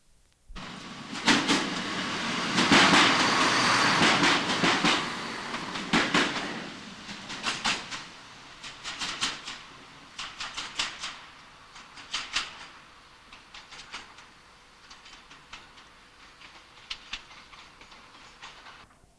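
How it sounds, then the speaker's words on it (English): A train bound from Grantham to Nottingham passes under a road bridge, a rushing swell followed by a long run of rhythmic wheel clicks and clacks over rail joints that thin out as it moves away. "under the road bridge a train from Grantham to Nottingham"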